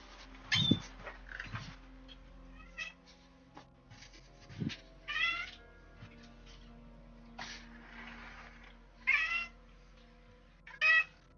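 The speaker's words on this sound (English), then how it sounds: "there's a cat that very much wants my attention" A cat meows repeatedly for attention, several separate close cries spaced a second or two apart over a quiet background hum.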